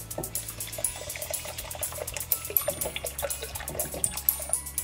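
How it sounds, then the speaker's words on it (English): Water poured into a pot of fish curry, a close, steady splashing trickle with bubbly drips lasting several seconds, no voices. "Next, I'll be adding more water."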